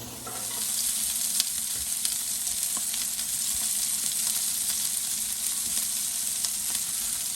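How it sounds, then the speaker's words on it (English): Sausage and tasso fry in a pot as the first step of a Louisiana gumbo, giving a loud, steady sizzle with occasional scrapes of a stirring utensil. "Once you've got the sausage and the tasso reasonably fried down"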